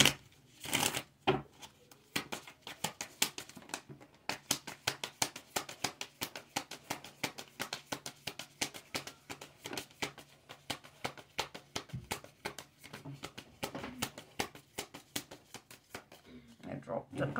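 Tarot cards riffled and shuffled by hand, a rapid, even run of crisp flicks lasting many seconds, close and fairly quiet, with a person speaking around it.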